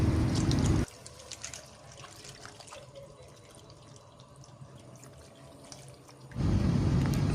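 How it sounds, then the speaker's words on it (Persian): Water is poured into a pot of pasta sauce that already has milk added, a quiet, steady trickle and splash lasting about five seconds between louder kitchen noise, with no talking. "و بهش آب هم اضافه کردم"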